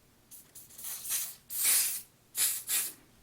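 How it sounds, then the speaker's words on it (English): Several short hissing bursts of hairspray misted onto braided hair from about 12 inches away, soft and close with brief pauses between sprays. "give it a little tiny spray, not much"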